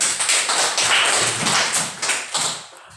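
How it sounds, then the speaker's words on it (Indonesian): An audience claps together in a bright, dense burst of applause, loud and close for about three seconds before it starts to thin out. "mari berikan aplaus"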